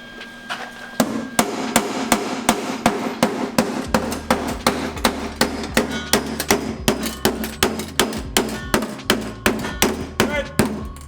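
Repeated hammer blows ring out on metal, sharp clanging strikes falling in a steady, fairly quick rhythm up close.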